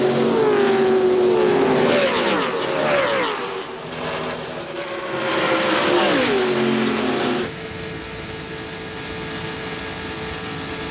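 ARCA stock cars racing at Talladega Superspeedway in the 1999 Winn-Dixie 300, engines roaring loud and close as cars pass in two sweeping Doppler waves, then settling into a steadier, more distant drone.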